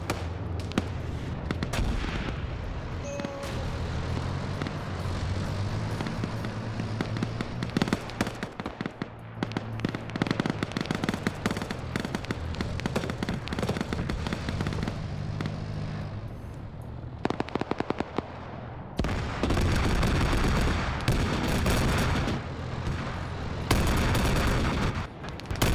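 Up ahead in a video game, explosions and gunfire rumble on without a break, with dense booming blasts and crackling volleys that swell loudest toward the end.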